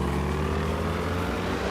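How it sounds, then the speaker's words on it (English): A helicopter flies overhead in the video game DayZ, a steady droning engine and rotor hum that holds fairly loud and constant throughout, with no voices. "That is a helicopter."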